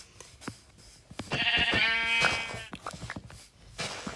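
A single drawn-out Minecraft sheep bleat, wavering and fairly loud, surrounded by scattered light clicks and taps.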